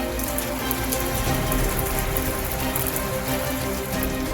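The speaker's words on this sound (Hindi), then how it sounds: "श्री गंगानगर में रुक रुक कर हो रही बारिश ने गर्मी से राहत दी।" Steady rain falls in Sri Ganganagar, Rajasthan, a dense, continuous patter on surfaces that stays even and fairly loud throughout with no voices.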